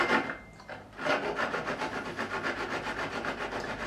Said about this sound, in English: the file will let you know by the sound when you're close to where you need to be